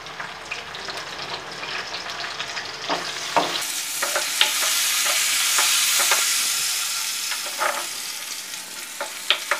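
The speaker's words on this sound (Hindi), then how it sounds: "अब मैं इसमें डालूँगी कढ़ी पत्ता" Cumin seeds and curry leaves sizzle in hot oil for a chicken daal mash, a steady frying hiss that swells after a few seconds, with sharp pops and spatters and the scrape of stirring throughout.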